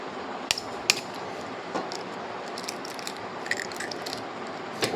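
Two eggs are cracked onto a roti maker, giving a pair of sharp, quick shell taps close together near the start, followed by faint clicks over a steady low hiss.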